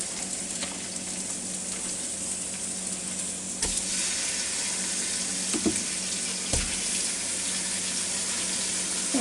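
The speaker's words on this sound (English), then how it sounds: "now I put me a little piece down in there, so it's starting to sizzle now" Ground beef sizzling and frying in a Ninja Foodi pressure cooker pot, a steady crackling hiss with a few sharp clanks of utensils against metal.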